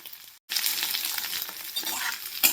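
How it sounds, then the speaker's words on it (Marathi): Squeezed bitter gourd frying in hot oil, a dense, bright sizzle that bursts in after a brief silence and stays loud and steady, with a faint clink of utensil near the end. "हे असं तेलामध्ये आपल्याला तळून घ्यायचं आहे बघा कारलं।"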